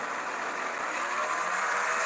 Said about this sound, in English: the inline engine making that unique sound